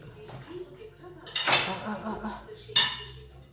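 Beef stir-fried with curry paste in a pan, with metal spatula clatter and scraping against the pan in two bursts, under a voice talking.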